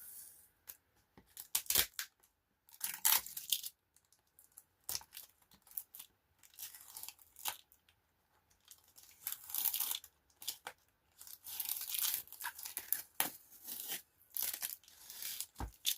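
Tape is peeled and crumpled off a watercolour painting in quiet, close bursts of tearing, scratchy crinkling and rustling, spread unevenly across a hushed room.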